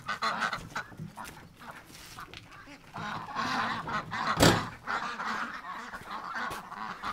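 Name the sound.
duck calling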